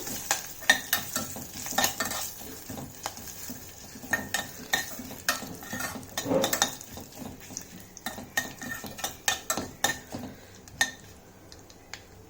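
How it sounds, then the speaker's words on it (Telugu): Asafoetida is stirred into a tomato and coriander chutney in a hot pan: a spoon repeatedly scrapes and clinks against the metal in irregular strokes over a low sizzle, close up and without speech. "తర్వాత ఇందులోకి కొంచెం ఇంగువ వేసుకోవాలి. మంచిగా మిక్స్ చేసుకోండి."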